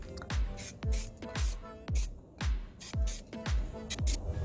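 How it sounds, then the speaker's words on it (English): Light first coat of primer being spray painted onto a wheel during curb rash repair, heard as about nine short hissing bursts in a steady rhythm, each one sharp, close and fairly loud with brief gaps between. "Just laying on the first coat of primer."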